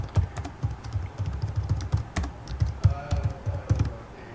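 Steady run of keystrokes on a computer keyboard, close and fairly loud, with uneven bursts of clicks and no voices.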